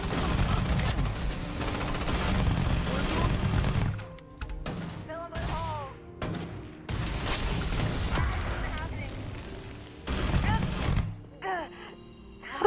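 Gunfire rattles through a Starfield video game battle in dense, loud bursts of rapid shots that break off in short pauses, with game voices shouting over the firefight.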